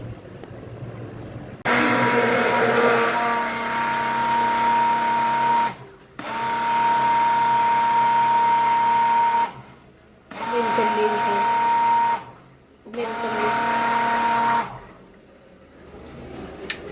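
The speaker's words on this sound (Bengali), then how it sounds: "চিনি দেওয়া হচ্ছে এখন ব্লেন্ড করলেই হয়ে যাবে বোরহানি" An electric blender whirs through a batch of Old Dhaka-style borhani, a spiced yogurt drink, in several loud sustained bursts separated by short pauses, with a steady motor whine.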